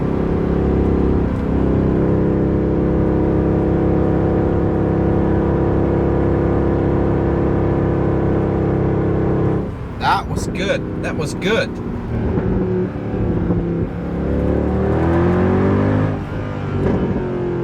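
A Mercedes C63 engine drones loudly and steadily at speed around 4000 RPM, mixed with rushing wind and road roar; a person briefly speaks partway through.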